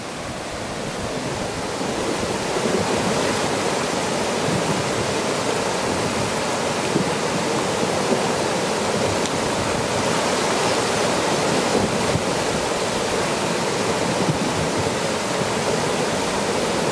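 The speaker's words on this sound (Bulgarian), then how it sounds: "Под краката ми буквално земята трепери и се чува това клокочене." Gurgling spring between the lower and middle Bachkovo waterfalls, a continuous loud rush of churning water that stays close and steady throughout without pause, with no voices over it.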